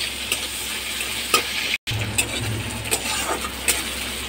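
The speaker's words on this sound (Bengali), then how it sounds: "এবার পেঁয়াজটা ওখানে ভেজে নেবো লাল লাল করে।" Onion fries steadily in a pan for a mustard fish dish with cashews, a constant close sizzle with light stirring taps and a brief dropout near the middle.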